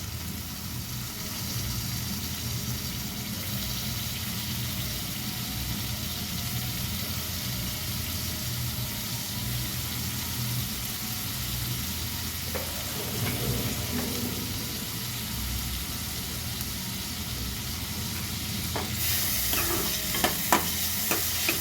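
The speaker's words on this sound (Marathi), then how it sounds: "टोमॅटोसुद्धा परतते छानपैकी" Tomatoes and onions fry in a home pan for a moth bean curry, a steady sizzle with a low background hum, with scraping stirs mid-way and a louder burst of crackling near the end.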